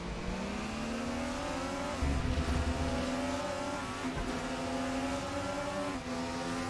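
A Mercedes 190 DTM touring car racing at Watkins Glen in the 1995 Deutsche Tourenwagen Meisterschaft, its engine holding a loud, steady, rising and shifting roar, drifting through a corner, with no voices over it.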